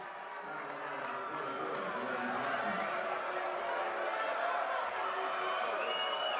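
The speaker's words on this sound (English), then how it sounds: "The home crowd showing their displeasure with that call." A home crowd at a boys high school basketball game, Westlake vs. Herriman, sends up a swelling wash of boos and shouting at a referee's call, a dense sustained roar that builds slightly and holds.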